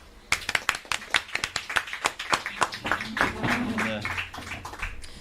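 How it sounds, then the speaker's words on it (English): Audience clapping and applause at a live Sport Relief charity podcast broadcast in a Southampton venue: sharp, distinct hand claps from a fairly small crowd, loud and close, with talk mixed in. "a round of applause again then for Saskia and Kirstie."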